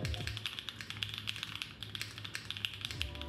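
Rapid, steady typing on a customizable mechanical keyboard at a desk, with dense clicky keystrokes close up and continuous throughout, no talking.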